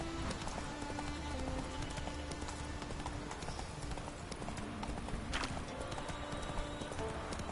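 Horse hooves clip-clop steadily in a fast gallop throughout in The Witcher 3 video game, loud and continuous over game ambience, with a brief whinny-like accent midway and no talk.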